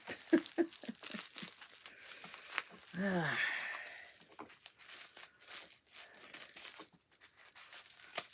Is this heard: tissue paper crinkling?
yes